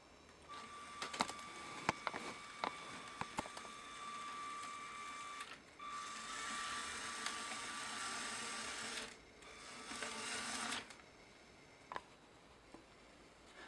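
A LEGO Technic diesel shunter locomotive driven by a medium motor runs along standard rails, a steady whirring drone in two sustained stretches, with scattered clicks and ticks around them, close and fairly quiet.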